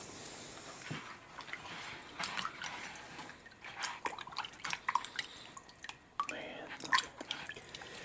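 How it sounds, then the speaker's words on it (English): Chert rocks being washed in water, with faint splashes, trickles and drips spread across the scene, quiet and close, with light scattered handling noises and no talking. "So we'll wash a few of them up here, see what we've got."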